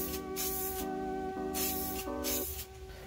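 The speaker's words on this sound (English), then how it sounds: "now I'm just gonna dust some paint in those hard to reach areas" Short hissing bursts of spray paint lightly dusted onto a 1998 Jeep Grand Cherokee ZJ 5.9 Ultra Star rim around the valve stem, repeated several times under steady background music.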